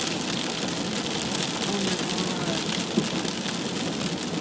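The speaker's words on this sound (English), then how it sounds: "You guys can probably actually hear the rain hitting my windshield" Steady rain hammers on a car windshield during a drive, a dense, continuous patter close by with no pause.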